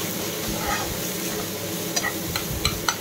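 Onion, green chilli and tomato with turmeric frying in a pan, a continuous close sizzle with a few sharp clicks of a spoon stirring near the end.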